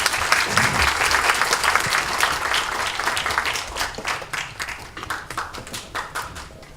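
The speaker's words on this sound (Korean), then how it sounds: "큰 박수로 환영해 주십시오" An audience at a broadband media technology conference bursts into loud, dense applause to welcome a speaker to the stage, then the clapping thins into scattered, fading claps.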